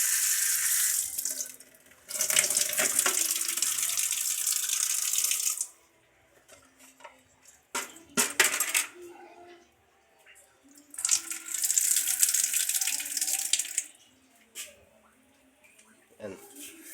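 Running water from a kitchen sink tap during dishwashing, gushing in several loud stretches separated by quiet pauses filled with clinks and handling noises.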